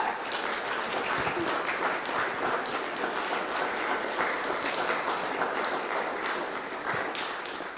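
An audience in a church service applauds after a meditation song, with sustained, full clapping at a moderate distance that stays steady and tapers slightly at the very end.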